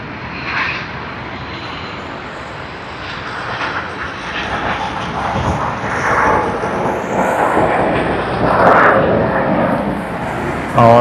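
LATAM Airlines flight LA809, a Santiago to Sydney service, arrives at Sydney Airport with a loud, sustained aircraft engine roar that swells and rumbles steadily throughout, a whining tone sweeping through the noise.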